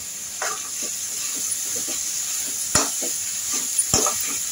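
Snake gourd pieces fry in a pan, a constant hiss of sizzling oil under repeated scraping stirs and a few sharp clinks of a utensil against the pan.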